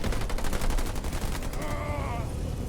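A deployed turret in Halo Wars 2 fires a rapid, steady burst of loud gunfire that stops partway through, leaving a softer tonal battle ambience behind.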